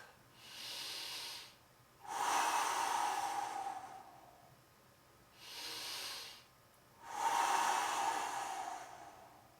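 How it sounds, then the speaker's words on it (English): Deep breathing during a core workout: two rounds of slow, airy breaths, each a shorter inhale followed by a longer, stronger exhale, close and steady with no talk. "Big breath."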